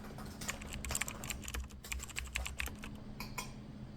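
Quick, fairly soft key clicks patter steadily as a product description is typed on a computer keyboard, with no talking.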